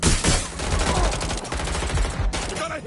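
Rapid bursts of gunfire in the video game Watch Dogs Legion, loud repeated shots in close succession with music and effects underneath.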